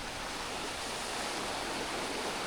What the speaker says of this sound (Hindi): यहाँ पे एक नदी है